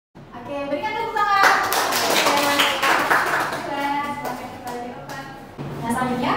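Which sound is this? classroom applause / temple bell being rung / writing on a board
classroom applause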